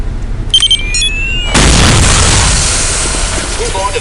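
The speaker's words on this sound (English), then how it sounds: "Once a radio bomb is planted, take cover and press your fire key to detonate the bomb" A radio-controlled bomb detonates in Counter-Strike: Condition Zero as a sudden loud, close blast with a long rumbling tail that slowly dies away, after a few short electronic beeps.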